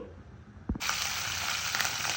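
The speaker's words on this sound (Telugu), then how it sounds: "చూడండి ఆవాలు చిట్లంగానే" Mustard seeds hit hot oil in a pan on the stove, bursting into a loud, steady spluttering sizzle after a couple of soft knocks, crackling on without pause.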